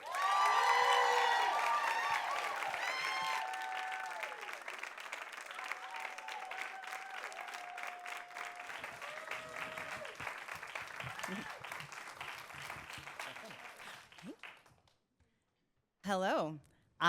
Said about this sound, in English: please give a very warm round of applause for Tracy Drain